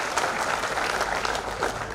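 A civic felicitation ceremony honouring Bal Yogi Umesh Nath Maharaj, where the audience breaks into steady, dense applause that fills the whole moment without pause, with no one talking over it.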